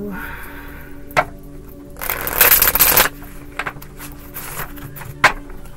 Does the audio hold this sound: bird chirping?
no